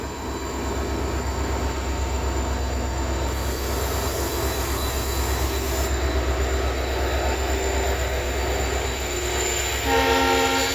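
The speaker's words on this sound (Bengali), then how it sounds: "আগে ট্রেনটা দেখেন। এই ট্রেন দিয়ে আসলাম।" A passenger train stands at Gauripur railway station, its engine rumbling loud and close in a continuous drone, with a brief horn-like tone rising near the end; no one speaks.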